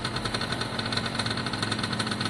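An Italjet Formula 50cc two-stroke scooter engine idles close by with a fast, even, buzzing putter and a slight knocking rattle, steady throughout with no talk.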